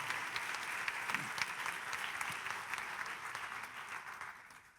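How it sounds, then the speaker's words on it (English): Sustained applause from the audience at a high school graduation ceremony after a student is named, a steady wash of many hands clapping at moderate distance, fading slightly toward the end. "let's give a round of applause to Rachel Bean."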